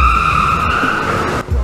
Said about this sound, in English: The car sped off